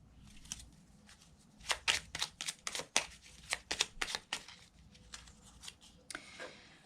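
Tarot cards shuffled by hand, a soft close run of rapid riffling flutters and taps in uneven bursts, with no talking.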